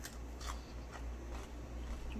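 Crisp crunches of biting a lemon cucumber come in a few quick bites, close and fairly quiet, each snap followed by a little chewing.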